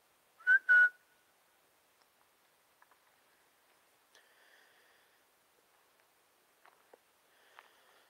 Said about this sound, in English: some kind of crazy whistle type.